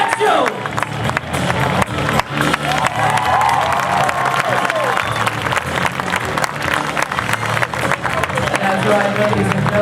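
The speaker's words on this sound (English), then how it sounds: "we need your round of applause as they make their way" An outdoor audience at a national ski team show tournament applauding and cheering, steady clapping and crowd noise throughout while an announcer talks over a loudspeaker.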